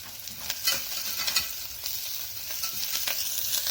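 Curry leaves frying in hot oil for pepper chicken gravy, a close, steady crackling sizzle with bursts of popping and stirring scrapes throughout.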